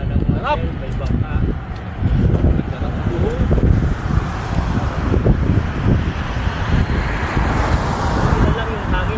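Wind blows hard across an open boat ride near Olango, a dense roaring rush with gusting microphone buffeting and engine or water noise beneath, continuous throughout with occasional talk.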